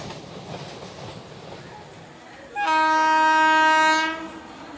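A train sound effect in a Bengali suspense audio story: a low rumble, then a loud, sustained horn blast that holds steady for about a second and a half before it cuts off.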